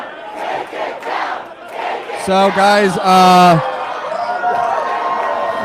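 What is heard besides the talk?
crowd cheering and chanting "Take it down" at election night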